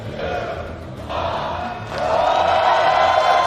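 Crowd noise at a PUBG esports event in London during the elimination round, a steady roar of cheering that swells louder midway and holds, with faint commentary voices beneath.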